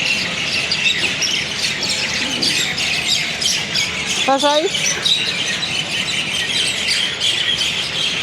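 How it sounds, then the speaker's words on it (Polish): Hundreds of birds in Jaipur, India, squawk and chirp continuously as a dense background din outdoors, with one louder nearby call standing out midway, while a person briefly speaks over it. "A tutaj, nie wiem czy to słychać, ptaki."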